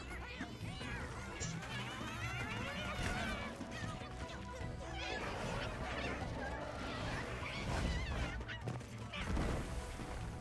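A fire chicken monster in Monster Hunter Wilds squawks and honks amid dense battle noise, loud goose-like calls repeating over crashing effects and music while players talk.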